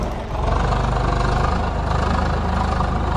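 A tractor engine runs in Farming Simulator 22 with an Indian mod, hauling a sugarcane trolley, giving a loud, steady diesel idle with an even low throb and no talk over it.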